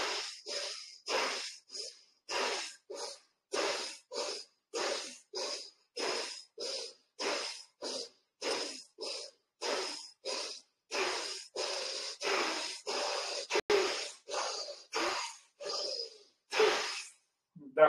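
Forceful rhythmic bhastrika belly breathing in a yoga class: a steady run of about two dozen sharp, loud nasal exhalation bursts, evenly paced, close to the listener, with no talk over them.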